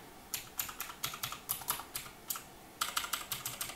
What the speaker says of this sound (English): So they're not quite as good as cherry blue switches, but it does have that nice clicky feel